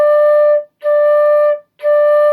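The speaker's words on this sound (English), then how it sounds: "So we don't want it to sound like this," Three flute notes on the same pitch, each held about half a second and cut off by clear breaks of silence, played close and fairly loud with no talking.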